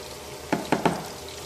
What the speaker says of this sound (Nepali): चलाउँदैछु डाडुले